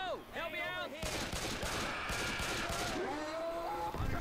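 Rapid video game gunfire in Left 4 Dead aimed at a hunter, a dense burst of repeated shots lasting a couple of seconds, mixed with excited voices talking over it.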